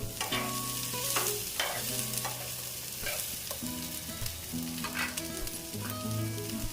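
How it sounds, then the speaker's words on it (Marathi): Peas and carrots stir-fried in a pan for vegetable pulao, with steady sizzling and repeated scraping strokes of a spoon over background music, no talking. "वटाणा आणि गाजर पण टाकून मी परतून घेते"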